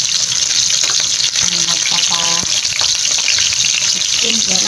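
Food frying in a pan at home for a simple dinner dish, a loud, steady hiss and sizzle close by, with faint clinks of a utensil and brief tonal clatter.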